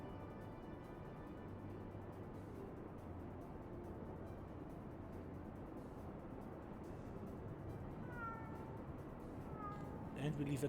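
A cat in Final Fantasy XIV Heavensward gives a few short meows near the end, over a steady bed of game ambience.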